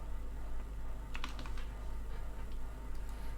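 Quick bursts of key clicks as a username is typed on a computer keyboard, close and clear, with short pauses between runs over a steady low electrical hum.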